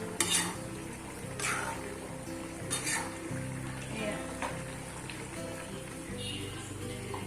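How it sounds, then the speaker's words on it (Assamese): Pot of local chicken cooking on the stove, a steady bubbling sizzle broken by several clinks and scrapes of a utensil against the pot. "এইটো লোকেল চিকেনটো উতলি আছে"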